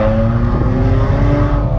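A Hyundai i30 N hot hatch engine pulls hard under acceleration, a loud, close, continuous droning growl with pitch creeping upward, heard from inside the car with no speech.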